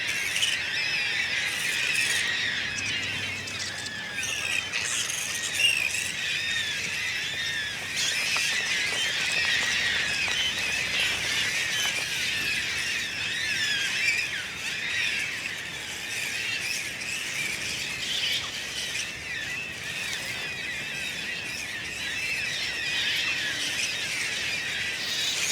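A dense chorus of shrill, squealing bird calls in Australian trees fills the air continuously, steady and fairly distant, with no pauses.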